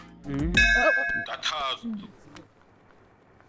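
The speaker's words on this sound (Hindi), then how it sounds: "ये देख घंटी बज गई, मतलब सच है।" A bell rings with a bright metallic clang that rings on briefly, mixed with voices talking around it.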